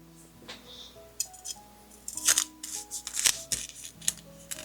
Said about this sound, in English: All right, time to cut the bread.